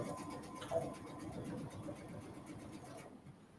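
A sewing machine stitches a narrow, close zigzag along the bottom of a fabric pocket, a faint, steady whirring that stops abruptly near the end.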